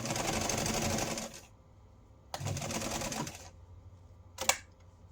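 A sewing machine stitches a fabric envelope in three separate runs: two long whirring bursts and a short final one, each followed by a quiet pause.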